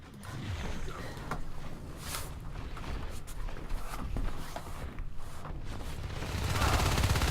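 Pistol fire in the video game Natural Selection 2 arrives as rapid, sharp cracks amid a busy, noisy combat mix that rises toward the end.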